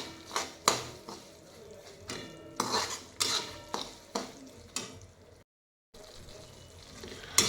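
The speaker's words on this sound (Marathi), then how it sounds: "पाहू शकता आपला रवा इथे फ्राय झालेला आहे।" Semolina roasting in a pan for sheera is stirred with a spoon in a rapid series of close scraping strokes against the metal, with a brief silent break before the stirring resumes.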